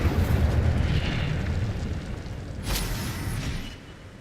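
The Incendio fire spell in Hogwarts Legacy roars out as a rushing fiery burst, loud and close, swelling again briefly midway before fading.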